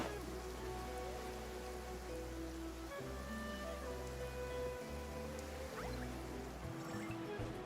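Steady rainfall in the Genshin Impact video game patters continuously, soft and even, over a low sustained musical drone with a few faint tonal shifts.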